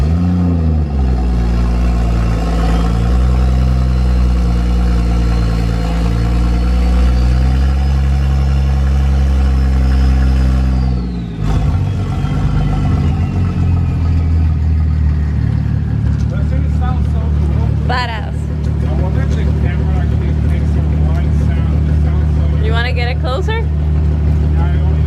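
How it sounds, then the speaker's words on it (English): A fully built Mazda 13B rotary race engine roaring loud and close through a cold start, holding a steady rough idle with rising and falling revs, then a brief dip before revving on, while people talk over it. "I've been wanting to get a super cold start video for the longest time now."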